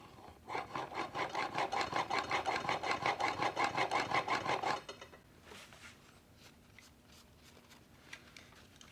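A No. 8 jointer plane blade's bevel is wiped in quick rhythmic strokes against a sharpening wheel, a loud regular rasping for about five seconds, followed by quieter scattered scrapes and taps.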